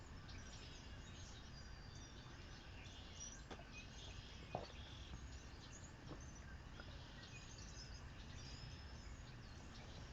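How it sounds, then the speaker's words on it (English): Faint birdsong from backyard trees, scattered chirps and tweets, drifts over a steady outdoor hiss, distant and soft, with no one talking. "Hear all the birds out there in my trees?"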